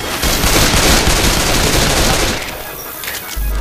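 Gunfire in Left 4 Dead 2: loud, sustained automatic fire, a dense rapid rattle that continues without pause and eases slightly toward the end before picking up again.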